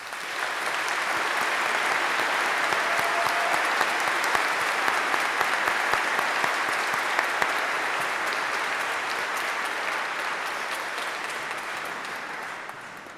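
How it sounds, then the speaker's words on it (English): An audience at a high school baccalaureate Mass gives a warm, sustained round of applause, a dense, steady clapping that lasts the whole stretch and tapers slightly at the end, with no speech over it. "let us offer a warm round of applause."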